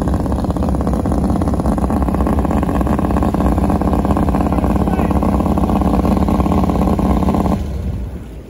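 Big-block V8 in a 1971 Sanger boat idles steadily while warming up, a loud, continuous rumbling drone close by that holds even for about seven and a half seconds before dropping away at the end.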